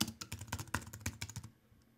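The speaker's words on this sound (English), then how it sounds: "hit enter on my keyboard to go to the next line" Rapid keystrokes on a computer keyboard, about a dozen distinct clicks in quick succession, close and clear, stopping abruptly after one and a half seconds, with no voices.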